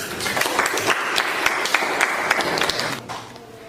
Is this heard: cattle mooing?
no